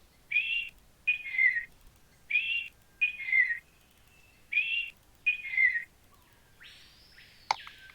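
Bird calls from the video game Verum ring out as three paired whistled phrases at steady intervals, clear and moderately loud, ending with a brief click and fading tone.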